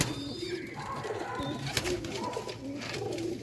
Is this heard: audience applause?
no